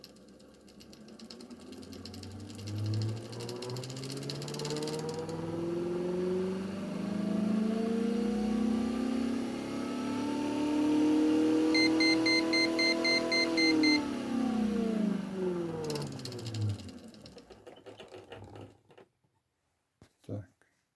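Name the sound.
magnetic generator recuperative drive speeding up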